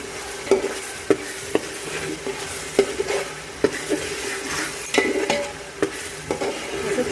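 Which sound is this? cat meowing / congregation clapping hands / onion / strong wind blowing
onion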